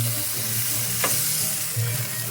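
Salmon searing in a cast iron pan over maximum heat, a steady loud sizzle and crackle of hot oil close by, with a brief scrape in the middle.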